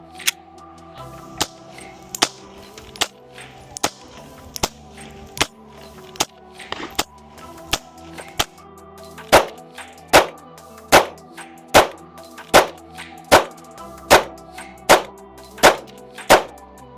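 Handgun shots at a shooting range ring out as a steady series of sharp, evenly spaced cracks, with about twenty reports that grow louder and more regular toward the end. No voices can be heard.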